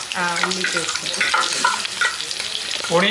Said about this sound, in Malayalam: അതിന് കുറച്ച് ബട്ടർ എടുത്തിട്ട് ഈ ഓയിലേക്ക് ഫസ്റ്റ് ഓണിയൻ പേസ്റ്റ് പോടുന്നു